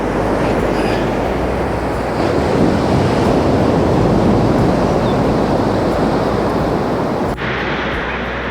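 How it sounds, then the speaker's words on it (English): Ocean waves on Australia's east coast roar in a steady, loud wash, with wind buffeting the microphone throughout and a brief dip near the end. "So here's the waves."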